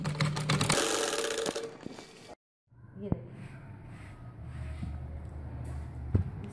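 Sewing machine running in a fast, loud burst of stitching along the side of a poncha, cutting off abruptly, then a quieter rumbling stretch with scattered clicks and a voice speaking.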